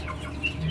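A chicken with a rattling, snoring respiratory illness makes a short, soft cluck close by over a low background hum, while someone doses the bird.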